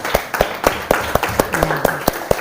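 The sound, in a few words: group applause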